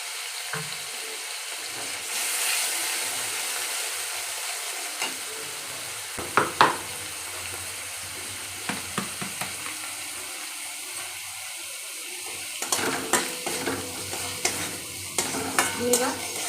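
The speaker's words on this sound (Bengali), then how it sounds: "ভালো করে কষে নিচ্ছি" Hilsa fish curry sautéed with green chili, turmeric and Kashmiri chili powder: steady oily sizzle with repeated sharp spoon scrapes and clinks against the pan, growing busier toward the end.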